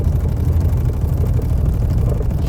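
A 2024 VW Amarok rolls across a condensed sine-wave test road, giving a steady, loud low rumble of tyres and suspension with engine drone, unbroken and close, with no talk.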